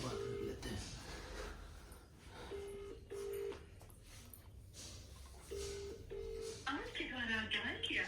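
A series of short telephone keypad tones beeping in an uneven rhythm, with muffled voices and room noise underneath and a warbling tone near the end.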